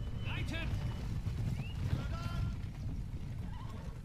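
Horse whinnies and galloping hooves from the fantasy strategy game Battle for Middle-earth 2, heard as brief neighs over a dense, continuous battle-and-music soundscape.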